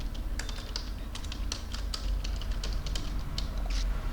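Steady, fairly close clicking of fingers typing on a computer keyboard, with quick irregular keystrokes and no voices.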